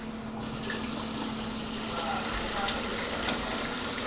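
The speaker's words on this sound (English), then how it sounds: "Go ahead and turn that water on." Hot water runs from a tap into a sink in an old farmhouse kitchen, a steady even hiss and splash throughout, moderately close, with a low hum beneath.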